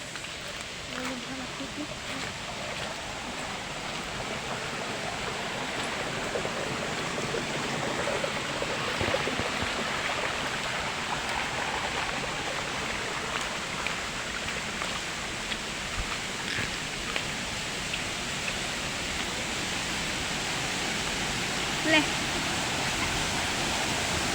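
A small village waterfall gives a steady, loud broadband rush of falling water that continues unbroken throughout, with a voice faintly present beneath it.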